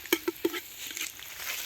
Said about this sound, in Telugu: నాయుడు ఇప్పుడు ఉల్లిపాయలు వేపడం ఎలా అనేది నేర్పుతున్నాడు.